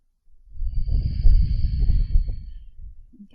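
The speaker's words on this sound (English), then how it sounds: "Ujjayi breathing, we call that." Ujjayi breathing through the nose makes a close, soft, steady rushing breath with a throaty hiss, one long exhalation lasting a few seconds and fading at the end.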